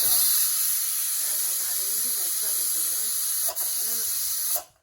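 A pressure cooker vents steam in a loud, steady, close hiss that continues for nearly five seconds before cutting off, while a voice speaks faintly underneath.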